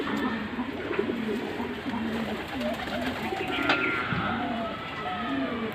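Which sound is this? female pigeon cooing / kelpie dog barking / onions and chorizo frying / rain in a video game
female pigeon cooing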